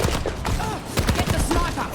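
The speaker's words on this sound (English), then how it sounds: "Rocket barrage incoming." Rapid explosive bursts from a rocket barrage in a team-based shooter video game, a dense run of sharp impacts and booms stacked close together, loud and continuous for a couple of seconds.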